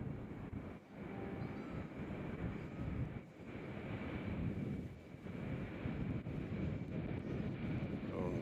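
An American Airlines airliner departs Nashville International Airport, a broad steady engine roar that swells and dips under gusting wind noise, heard from a distance.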